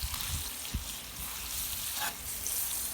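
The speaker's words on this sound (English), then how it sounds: "Get this stirred up. The shrimp are starting to turn pink." Shrimp sizzle in a butter sauce on a Member's Mark kettle grill for New Orleans BBQ shrimp, a steady close frying crackle with occasional stirring clinks.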